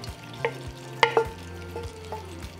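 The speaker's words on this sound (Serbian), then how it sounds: "i nastavljam da pržim dok džigerica ne bude gotova." Chicken liver and vegetables cooking in a hot pan, a spoon scraping and stirring in a few distinct strokes over a faint steady sizzle, close and moderately quiet with no talking.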